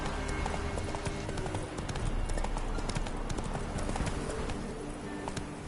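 Steady clip-clop of Roach the horse galloping in The Witcher, a continuous rhythmic hoof pattern close up over light game ambience with faint bird calls.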